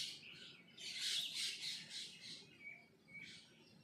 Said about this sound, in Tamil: இந்த குருவி சவுண்டு பாருங்கள் ஃப்ரெண்ட்ஸ், எப்படி இருக்குது காலையிலே